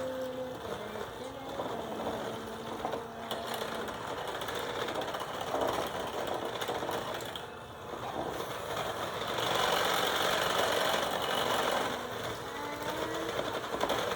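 An electric mixer whirs steadily through Twix cheesecake filling, a continuous close motor drone with slight shifts in pitch as it works, and faint voices underneath.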